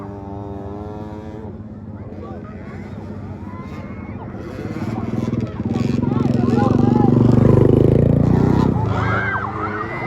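Small 50cc motocross bikes in a children's race buzz and rise in pitch as they accelerate, growing louder, while a commentator talks over them.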